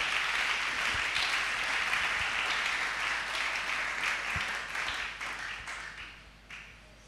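A church congregation applauds in a sustained, dense round of clapping that slowly thins and fades over about seven seconds.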